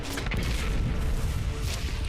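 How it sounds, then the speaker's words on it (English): Explosions in the video game Nitro Gen Omega make a dense, continuous low rumble with heavy booming bursts that stays loud throughout, with no clear gaps between blasts. "Yeah, more explosions."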